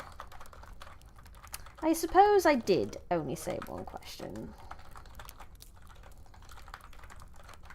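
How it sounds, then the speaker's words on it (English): Soft keystrokes patter on a computer keyboard in a quiet room while a person speaks over part of the typing. "I'm too busy typing it to go through it at the same time"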